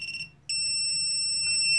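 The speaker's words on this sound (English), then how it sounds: "buzzer is very loud" Chip programmer buzzer sounding as flashing finishes on an Atmega328P-AU microcontroller: after a short pause, a loud, piercing, steady electronic tone sets in and holds unbroken to the end, alone over faint background hum.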